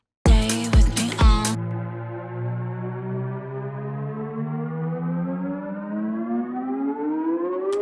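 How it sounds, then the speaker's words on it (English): Riser effect programmed in Cubase 11, a smooth synthesized tone that sweeps steadily upward in pitch for several seconds like a siren, preceded by a few short stabs at the start. "So this is just a riser effect, which I programmed in for Retrolog."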